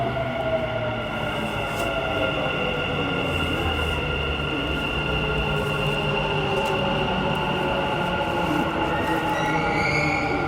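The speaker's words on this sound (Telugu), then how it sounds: "మళ్ళీ వచ్చేసింది మెట్రో" A Dubai Metro train pulls into the station with a sustained rumble and a rising electric motor whine. The sound is loud and continuous and stays close, with no talking.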